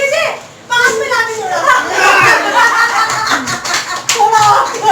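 Family members clap together at a home birthday celebration, with a steady patter of hands under children's voices and adult chatter throughout, pausing briefly near the start.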